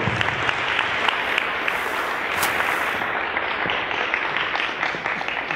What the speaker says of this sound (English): please join me in welcoming him on the floor with a big round of applause